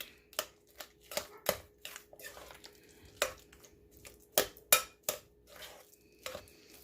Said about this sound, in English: Now I'm going to add 1 egg, and that's a large egg. And we're just going to stir this up.